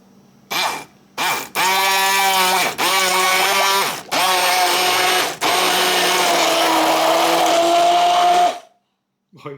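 A Ninja Creami Deluxe processes strawberry ice cream: a loud, close motor whine starts in two short bursts, then runs steadily with a few brief dips before cutting off abruptly.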